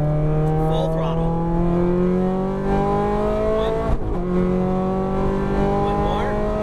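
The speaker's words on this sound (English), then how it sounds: "Now, just squeeze the throttle. Full throttle." A Ferrari F430 engine at full throttle on a track, loud and close, its pitch climbing steadily through two gear pulls with a short break at the upshift.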